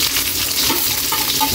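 Red and white onions fry in a pan for a crispy chicken dish, giving a brief, dense, steady sizzle heard up close with no voices.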